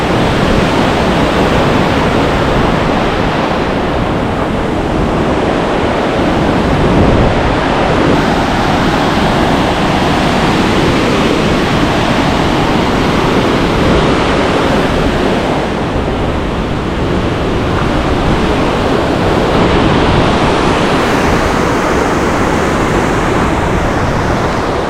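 River water rushes past steadily near a coracle fishing spot, a loud, continuous broadband roar with no pauses, with wind buffeting the microphone at times and no talking.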